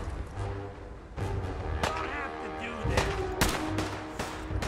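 Gunshots ring out in a first-person video game battle, a rapid series of loud, sharp cracks and bursts over constant background game noise.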